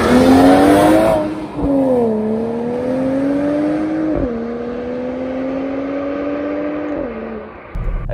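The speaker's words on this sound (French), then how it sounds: "c'est quand même appréciable, hein, cette sonorité du V8" A Mercedes-AMG E63 S wagon's V8 engine pulls hard and steadily from near by, its deep tone climbing and dipping briefly at gear changes.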